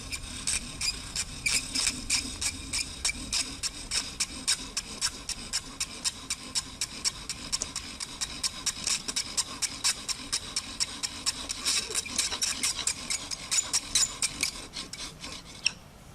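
Wooden spindle of an Arctic strap drill spinning in a wood fireboard as a fire is worked, giving a steady, rhythmic rasping friction with regular back-and-forth strokes, fairly close and alone for the whole stretch.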